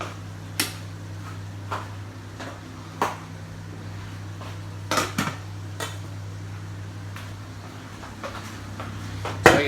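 Used pots and dishes are washed in a home kitchen. Sporadic clinks and clatters of cookware sound every second or so over a steady low background hum, with no voices.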